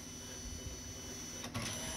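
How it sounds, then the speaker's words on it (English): An ALPS printer feeding paper and printing makes a continuous dense mechanical whir with a faint high whine, and a brief shift near the end as the paper catches. "Sometimes it has trouble feeding the paper."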